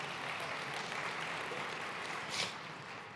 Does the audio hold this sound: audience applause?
yes